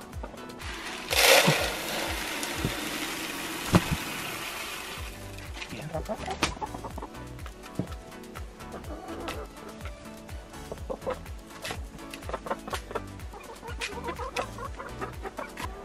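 Hens clucking inside a greenhouse on a snowy North Idaho farm, repeated close clucks and bursts over a steady rhythmic mechanical hum, with a louder squawk near the start.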